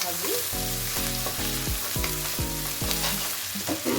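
Onion with ginger-garlic paste and a few panch phoron seeds frying in a pan, with a steady sizzle broken by a regular series of scraping stir strokes, close and fairly loud.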